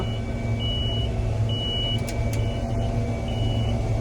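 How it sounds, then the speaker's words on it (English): A combine harvester's bin level alarm repeats high electronic beeps in evenly spaced pulses over the loud, steady drone of the machine harvesting beans, with no talking. "That's the bin level alarm going off."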